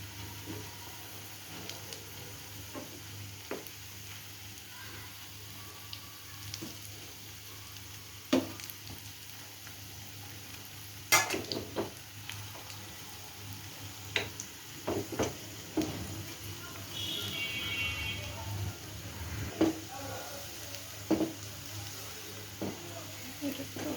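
Bottle gourd pakoras fry in hot oil with a soft, steady sizzle, broken by occasional sharp clicks and stirring knocks, faint and close throughout.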